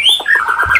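A thrush nightingale sings loudly and close, a bright run of varied whistled notes and rapid chirps in a short phrase, with no voices over it.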